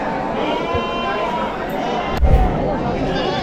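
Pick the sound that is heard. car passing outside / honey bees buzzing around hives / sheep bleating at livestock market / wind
sheep bleating at livestock market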